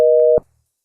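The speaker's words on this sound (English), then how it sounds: "The number you have dialed is not answering." A telephone line signal plays a single loud, steady electronic tone for under half a second, cut off by a click and followed by silence.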